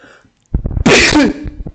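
A single loud sneeze bursts out close by, a short sharp intake followed by an explosive broadband blast, with faint voices and game sounds around it during a relaxed Civilization 5 session.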